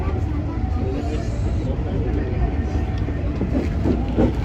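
A JR 205 series commuter train (set 46F) rolling into Solo Balapan station, a continuous low rumble and rail noise heard from inside the cab, steady and fairly loud with faint voices underneath.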